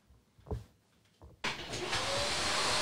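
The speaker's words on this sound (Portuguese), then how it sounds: "Tá ouvindo o barulho do aspirador?" A couple of faint thumps and clicks, then a vacuum cleaner switches on and roars steadily and loudly up close until the end.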